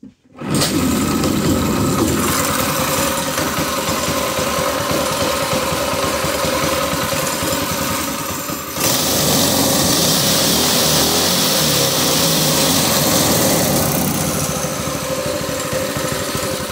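A Predator 212 small engine with its governor bypassed runs loud and steady, a buzzing, high-revving drone that shifts pitch partway through and keeps going without voices.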